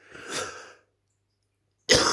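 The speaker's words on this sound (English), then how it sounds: "Morning smoker's cough." A raspy, hacking morning smoker's cough bursts out, a pause of silence follows, then another harsh cough starts.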